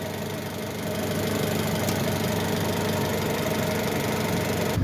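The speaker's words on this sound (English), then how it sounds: "Okay, with the motor running." A 2018 Jeep Trailhawk engine idles with a steady, continuous mechanical hum and light knocking texture, recorded close with no voices over it.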